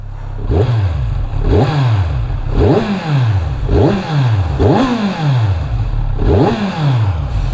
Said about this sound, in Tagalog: ito yung tunog ng tambucho natin kapag